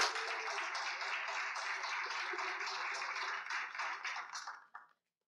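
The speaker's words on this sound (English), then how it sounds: "So please give a round of applause." Audience applause at a conference opening, a broad steady wash of clapping that holds evenly for several seconds before tapering off and stopping.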